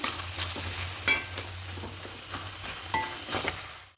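Chicken, potato and cabbage stirred in a pan over gas heat, a spoon scraping in irregular strokes over a low steady sizzle and burner hum, with a few sharper knocks against the pan.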